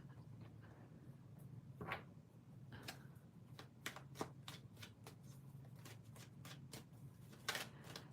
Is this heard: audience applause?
no